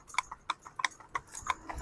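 A pair of horses being driven together clip-clop steadily on a hard surface, their quick, overlapping hoofbeats close and clear with no talk over them.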